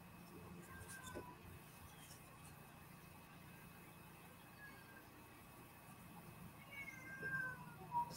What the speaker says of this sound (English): Ooh, I hear a cat.